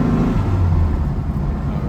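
A 1964 Volkswagen Beetle drives in first gear, its engine a loud, steady low rumble with road noise, heard close up from inside the car.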